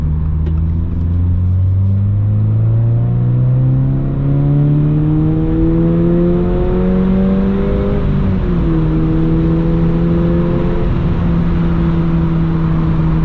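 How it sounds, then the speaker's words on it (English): A 2022 Subaru BRZ with an aftermarket catback exhaust drones steadily from inside the cabin with the windows cracked, its engine note climbing smoothly through the revs, dipping briefly at a shift, then holding a lower tone. "let's get some exhaust clips with the windows cracked. Let's see how it sounds."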